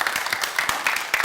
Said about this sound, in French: Merci de l'applaudir pendant qu'il nous rejoint